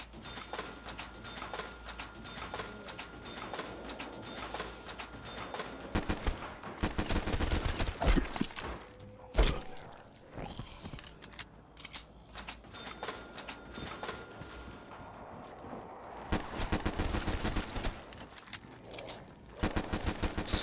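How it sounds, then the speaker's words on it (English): Rapid gunfire in a video game: long strings of shots rattle almost continuously at moderate volume, with louder bursts and a few heavier blasts standing out. "Fire a load of shots into these"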